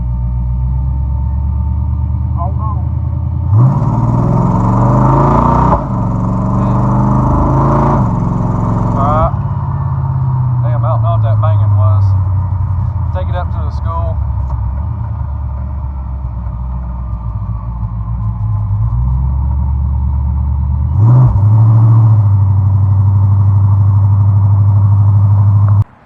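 A supercharged 1955 Chevy climbs a hill, its engine a heavy, loud low rumble throughout, with revs rising and shifting at several points while people talk over it.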